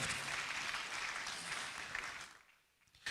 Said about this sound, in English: A round of applause one more time for Mr. Edmond Mukala.